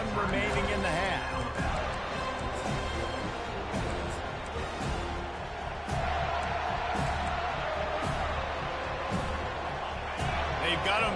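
A football stadium crowd roars and cheers steadily through the stretch, loud and continuous, with an announcer talking over the noise.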